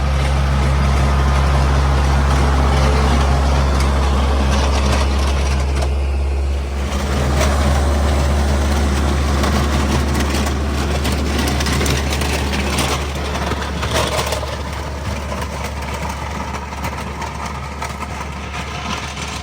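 A tractor engine works steadily while grading a rough gravel driveway on a homestead, a loud, continuous low rumble with a slight dip partway through and no voices.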